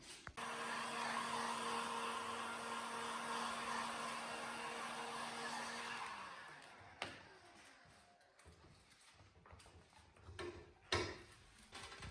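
A steady, loud blowing hiss of a heat gun smoothing plastic film stretched on a round frame runs for about six seconds, then cuts off, leaving faint handling clicks and knocks.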